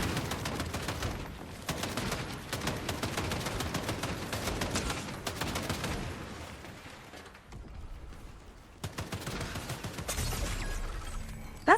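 Turret gunfire in Fortnite rattles in rapid, loud bursts, nearly continuous for long stretches with a short lull before resuming, close and harsh, with no talking over it.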